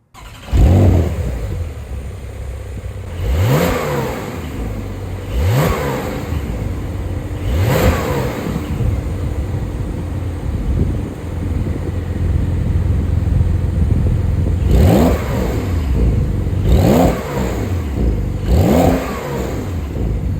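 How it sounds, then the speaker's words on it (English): A Porsche 911 Carrera S sport exhaust with valves open revs repeatedly, sharp throttle blips rising and falling over a steady rumbling idle, close and loud. "we'll open the valves and listen to the sport exhaust"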